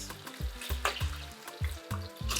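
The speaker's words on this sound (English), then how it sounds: "Can you hear the sizzling?" Bright, crackly sizzling of plantains frying in oil, continuous with scattered pops, over a rhythmic low thudding.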